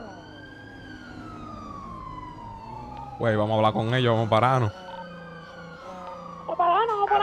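Police car sirens from a GTA roleplay game, several patrol cars, wail steadily in the background while people talk over them in Spanish.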